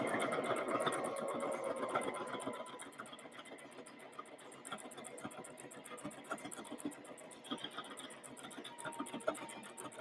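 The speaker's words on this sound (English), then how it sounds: "And then just sew away." A home sewing machine runs steadily over fabric with fast, even needle ticking, quiet and close, a louder whirring start settling into a soft continuous rhythmic chatter.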